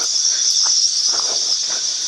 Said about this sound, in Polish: jest normalnie ryk tych świerszczy